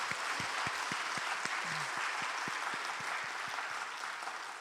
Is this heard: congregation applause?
yes